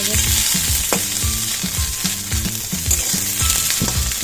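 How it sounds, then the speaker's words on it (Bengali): Small whole puti fish sizzle and crackle steadily in hot oil, with repeated clinks of a utensil stirring the pan close by. "পুঁটি মাছগুলো আছে গোটা গোটা এবার ভাজা হয়ে এসছে"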